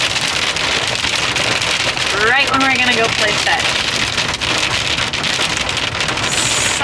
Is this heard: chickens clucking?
no